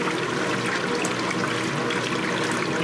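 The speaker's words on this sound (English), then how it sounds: "You can feel the currents of water in there." Water sloshes and churns inside a Speed Queen washing machine tub as the agitator works, a loud, constant rushing wash filling the whole stretch without talk.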